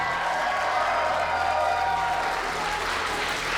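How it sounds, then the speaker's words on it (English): Steady applause from a convention crowd at a game show, continuous clapping with a faint cheer mixed in, filling the room evenly throughout. "round of applause for that"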